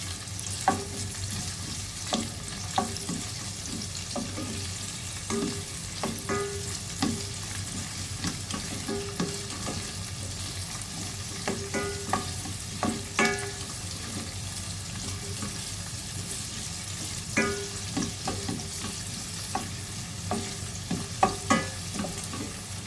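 Onion, garlic and ginger, cut in large pieces, sautéing in a pan for chana masala, giving a continuous frying hiss with repeated spatula scrapes and stirring knocks, close and steady throughout.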